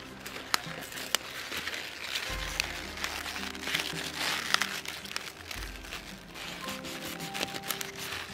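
A garden cabbage is cut off its plant outdoors, with crisp crunching and crinkling of leaves close by. A low steady hum runs under part of it.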